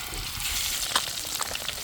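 Taki fish frying in hot oil gives a continuous, close sizzle with light spattering pops for a couple of seconds.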